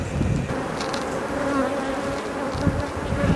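Dense, steady buzzing of honeybees clustered on a provision frame lifted from a hive during coastal swarm-making in March, a close continuous drone with slight swells and no talk.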